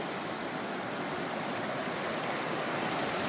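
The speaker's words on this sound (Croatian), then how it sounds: "ali mi ćemo poslušat šapat vode." Stream water flowing through a forest, a steady close rush and babble with broadband hiss that stays even throughout, no voices.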